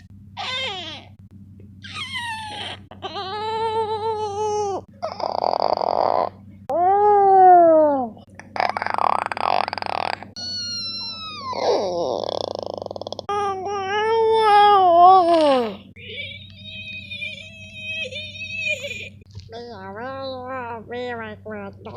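A dog makes a string of weird, warbling whines and yowls, each cry rising and bending in pitch, close and fairly loud with brief gaps between them.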